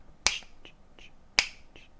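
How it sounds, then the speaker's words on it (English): Finger snaps played as dotted quarter notes: two sharp, crisp snaps just over a second apart, each followed by faint softer taps, close and alone in a quiet room. "because now I'm snapping dotted quarter notes."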